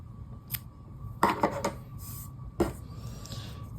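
Scissors snipping yarn ends on a small crocheted amigurumi lantern, a few quick crisp clicks and a short cluster of cuts, close and faint against a quiet room with no talk.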